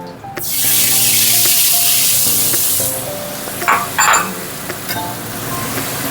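A turmeric and salt mixture dissolved in hot water is poured into hot oil where hilsa fish has been frying, setting off a loud, sudden sizzle that fades over a few seconds into a quieter bubbling with small splutters.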